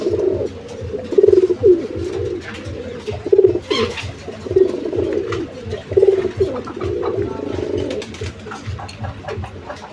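Kaldom and Giribaz pigeons coo in repeated soft, throaty phrases about a second apart, close by and clear over a low background hum, with occasional faint chirps and no speech.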